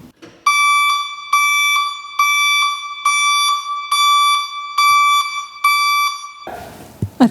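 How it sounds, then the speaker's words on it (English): A truck's reversing buzzer beeps seven times in a steady rhythm, loud and electronic, followed by a brief burst of clatter at the end. "We've attached the buzzer again, the reversing buzzer, properly this time"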